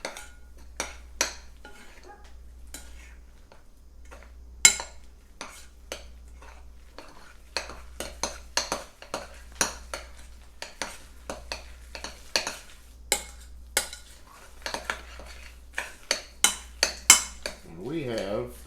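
Stuffed-pepper filling is mixed in a bowl, making sharp, close utensil clinks and scrapes in an irregular rhythm that speeds up toward the end over a low, steady hum.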